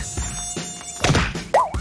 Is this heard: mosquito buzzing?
yes